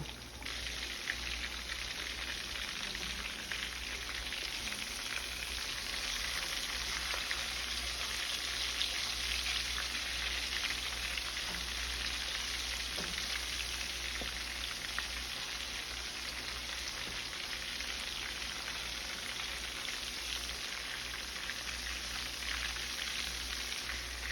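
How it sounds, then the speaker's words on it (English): Chicken frying in a small amount of oil in a pan, with no egg or flour coating, giving a steady, dense sizzle and crackle that holds evenly throughout at close range with no voices. "This is the chicken fried with no egg, no flour."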